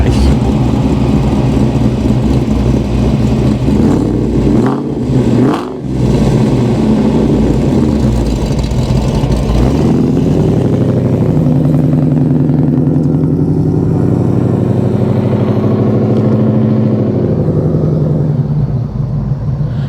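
A 1967 Ford Mustang resto-mod with a supercharged Coyote V8 roars past in loud flybys, with a deep engine drone, a sharp rise and dip around the pass, then a sustained rumbling pull as it accelerates away.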